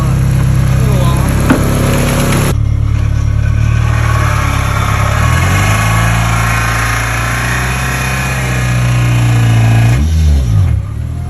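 A brand new rental car's engine is heard running loudly throughout, its low hum rising and settling with revs, a sharp shift near the start and a brief surge near the end, with a steady motor drone underneath.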